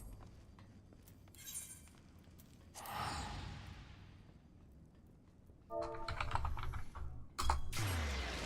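Function keys on a computer keyboard being pressed in scattered bursts of clicky taps, close and moderately loud over a steady background hiss, with a breathy sigh-like sound partway through.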